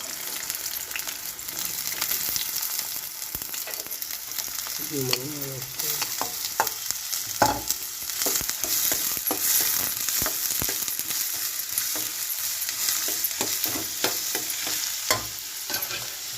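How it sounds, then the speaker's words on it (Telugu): Onions sizzle and crackle in hot oil in a pan, with a steady frying hiss broken by occasional stirring clatter and a brief squeak, close and continuous without talking. "మనం ఆయిల్ పోసుకుందాం ఫస్ట్గా ఆయిల్ వేడైంది ఇప్పుడు ఆనియన్స్ అయితే వేసుకుందాం"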